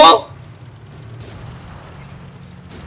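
A single loud tank cannon shot in the World of Tanks Blitz game, a sharp boom at the start that decays quickly into low engine rumble, with two fainter bursts following.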